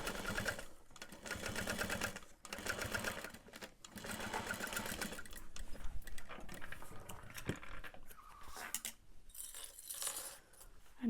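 A sewing machine stitches through thick layers of backpack strap in a rhythmic mechanical chatter. It runs in several bursts separated by brief pauses, with occasional small clicks and rattles, and is fairly close but quiet overall.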